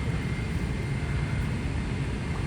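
Cabin noise aboard a large, full Ethiopian Airlines airliner in flight: a constant, even engine and air roar with a deep low rumble, heard alone.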